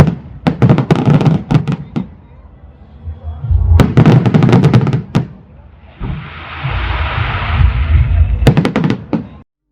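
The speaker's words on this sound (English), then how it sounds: "we watched some massive fireworks in action." Massive fireworks exploding at night in Varanasi, with loud bursts of rapid crackling bangs that come in three clusters, plus a stretch of hissing, whooshing sparks between them and background voices.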